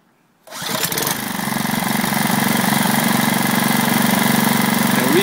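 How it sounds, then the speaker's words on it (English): A small engine with its air cleaner removed fires up abruptly after a moment of quiet, then settles into a loud, steady, buzzing run with a constant vibrating drone and no talking. "So we're going to start the engine"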